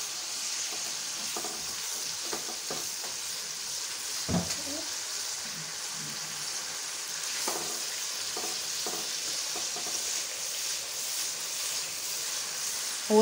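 Mutton fries in a pot for yakhni biryani, a soft continuous sizzle broken by scraping stir strokes and a couple of louder knocks, close and without talking.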